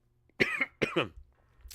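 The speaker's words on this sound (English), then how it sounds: "I've been getting this crazy tickle in my throat that usually causes a cough." Two close, loud coughs from a person with a cold and a tickly throat, a throat-clearing burst then a paired hack, with quiet room tone before and a faint breath after.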